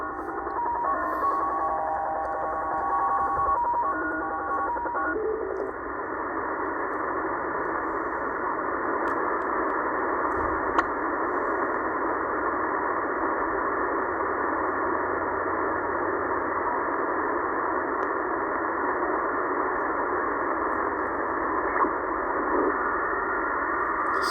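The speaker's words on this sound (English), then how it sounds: "Stanag signal there." A steady STANAG military shortwave data signal in the 6–7 MHz band: a dense, continuous band of digital hiss and warble, loud and unbroken, with faint tones flickering in the opening seconds.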